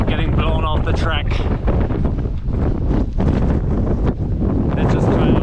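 Strong gusting wind on the Tongariro Alpine Crossing in New Zealand, roaring and buffeting the microphone loudly and continuously, with voices talking through it.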